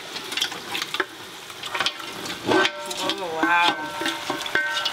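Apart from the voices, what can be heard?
meat frying and being stirred in a pot of potato greens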